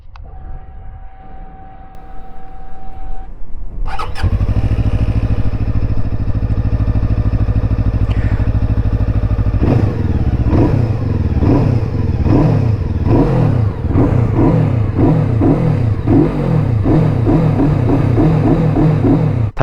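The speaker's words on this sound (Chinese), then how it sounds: "那么首先我们先来听一下这款 RS401的声浪吧。" A Cyclone RA401 cruiser motorcycle starts and settles into a deep, throbbing idle, then its engine is blipped repeatedly in rapid rising-and-falling revs, loud and close.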